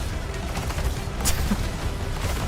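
Giant summoned turrets firing in the video game Arknights Endfield, a dense rumbling barrage of booms and bursts close by, continuous and loud with one sharper crack midway.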